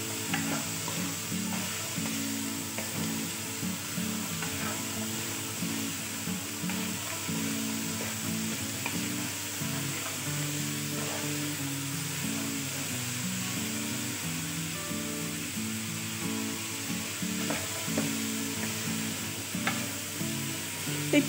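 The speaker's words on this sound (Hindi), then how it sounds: "गाजरा पा देंगे। मिक्स कर देंगे चंगी तरह।" Carrots stirred in a sizzling frying pan, a steady continuous fry with constant spatula scraping, close and even throughout with no talk.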